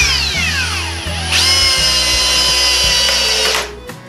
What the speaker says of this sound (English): Let's see if we can't just screw this in here real quick.